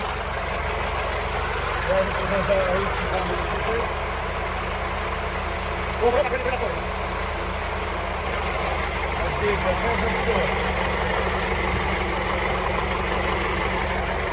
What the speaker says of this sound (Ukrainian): завів я знов тракторця